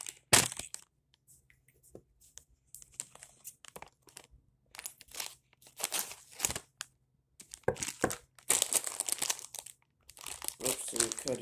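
Thomas Minis toys being cut from their plastic packaging, giving bursts of close crinkling and crunching plastic with pauses between, while a person talks quietly in between.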